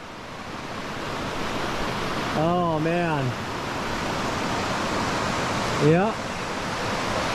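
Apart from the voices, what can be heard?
rushing floodwater beside the Appalachian Trail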